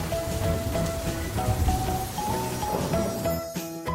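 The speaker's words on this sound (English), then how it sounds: "It's raining, and Peppa spots her rainbow umbrella." Steady cartoon rain from an animated children's show hisses continuously across the whole stretch, mixed with a light melodic music tune playing over it and thinning briefly near the end.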